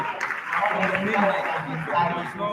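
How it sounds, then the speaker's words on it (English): A debate society audience claps steadily at moderate loudness, a dense wash of applause lasting a couple of seconds. "a round of applause once again for Mr."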